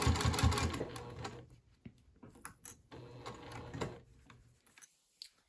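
A sewing machine stitches fabric for a beginner pint cozy in short, uneven bursts, its rattling mechanism starting and stopping with quiet gaps between runs, close and fairly loud.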